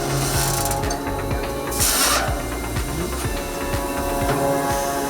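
Heavy industrial machinery in a forged-wheel factory, a 10,000-ton shuttle forging press sliding die sets and forging wheels, gives a steady loud mechanical din with repeated clanking and ratcheting impacts and a brief hissing burst midway.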